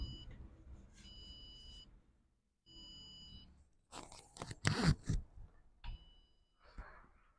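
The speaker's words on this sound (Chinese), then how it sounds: "一样是有哔哔哔的声音，" A desktop computer with a faulty memory module gives short, high electronic beep bursts, three spaced a couple of seconds apart, with some crunchy handling noise and faint murmuring in between.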